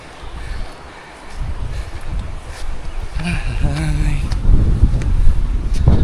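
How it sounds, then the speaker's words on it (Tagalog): Strong wind rumbles and gusts against the microphone, growing louder toward the end, with faint background sounds and no clear speech. "Tsaka sumasabay yung malakas na hangin."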